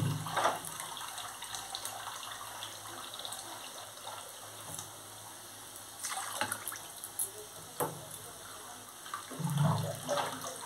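Water being poured into a bowl as hot water is measured out for cooking rice pulao, a soft, quiet trickling with a few louder splashes and clinks, no talk.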